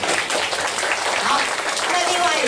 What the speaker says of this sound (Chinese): 我们鼓掌欢迎你们来